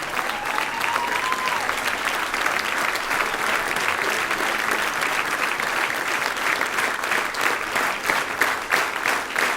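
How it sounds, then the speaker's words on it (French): A concert audience applauds a singer named Nicolas at a bicentenary celebration show, producing dense, sustained clapping that fills the whole stretch at steady loudness, with a brief whistle or vocal tone near the start. "Et applaudissements aussi pour notre chanteur Nicolas."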